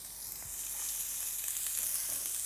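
Half an onion frying in hot oil, a steady hissing sizzle close by that holds evenly throughout with no talking.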